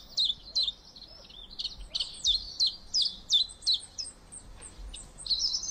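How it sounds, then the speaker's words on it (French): Insectivorous passerine birds migrating south call in a repeated series of short, high chirps, fairly near and steady, with some overlapping calls and faint background noise. "Ce sont des passereaux insectivores en partance pour le sud"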